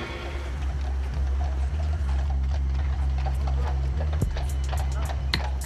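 Horse hooves clip-clop at a steady rhythm on a town-centre street in Beauvais, over a constant low rumble of traffic, with a few sharper knocks near the end.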